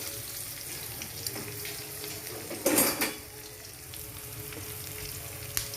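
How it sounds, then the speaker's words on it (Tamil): Fenugreek, mustard seeds and crushed garlic fry in a pan for a fish curry, giving a low steady sizzle with a louder burst of crackling midway and a few faint clinks of a utensil against the pan. "இந்த வெந்தயம் கடுகு பூண்டு எல்லாமே வந்து நல்லா பொரிஞ்சு வரட்டும்"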